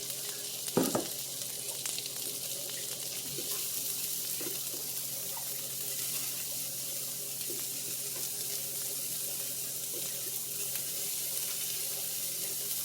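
Quarter of an onion sizzling in a cast iron skillet, a steady close frying hiss running throughout with a few brief clinks early on, no talk.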